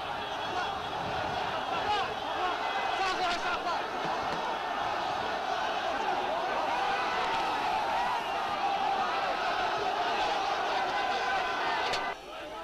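Large crowd of demonstrators in Baku, Azerbaijan protesting a school headscarf ban, a dense continuous roar of voices and shouting with occasional sharp knocks, under a narrator's voice.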